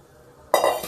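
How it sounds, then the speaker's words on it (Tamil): A soft clink, then a burst of splashing and sloshing as mutton boiled in salted water pours, chunks and liquid, into a cooking pan; short and close. "இப்போ நம்ம ஏற்கனவே உப்பு போட்டு பாயில் பண்ண வச்ச மட்டன் எடுத்து அதில் ஊற்றிக்கலாம்."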